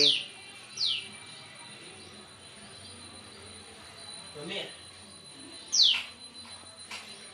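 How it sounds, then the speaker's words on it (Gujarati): Three short, high chirps from a small sparrow, spaced apart over a faint background hum, with a soft rustle in between. "આપણા ઘેરે નાની એટલી ચકલી છે"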